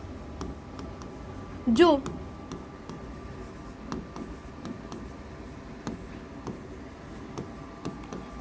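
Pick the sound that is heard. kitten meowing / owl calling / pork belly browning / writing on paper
writing on paper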